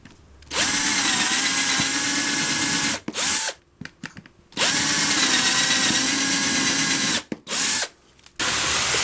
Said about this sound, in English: time to go all the way through with a 7mm drill